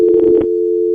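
A telephone line tone after a call is hung up: a steady, loud electronic tone lasting about a second, with brief clicking noise over its first half, heard alone.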